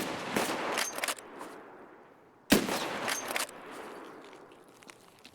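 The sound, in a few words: gunshots in the video game Escape from Tarkov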